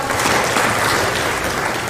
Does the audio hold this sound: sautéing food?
no